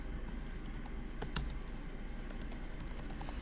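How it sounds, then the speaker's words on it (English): Quiet keyboard typing: soft, irregular key clicks scattered through a low room hum, with one slightly louder tap near the middle and no voices. "I'm very slow at typing, so that's why you're hearing all this"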